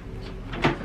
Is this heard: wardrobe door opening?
yes